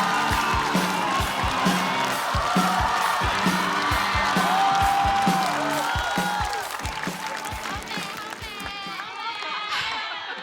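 A studio audience at a stand-up comedy show applauds and cheers as the next performer is called to the stage. The clapping and shouts are loud and sustained, then ease slightly near the end.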